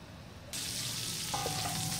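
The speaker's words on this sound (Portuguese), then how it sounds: "E vamos fritar bem esses dois ingredientes." Calabresa sausage and bacon fry in a pan, a loud, steady sizzle that suddenly swells partway through and then hisses on continuously, close up with no talking.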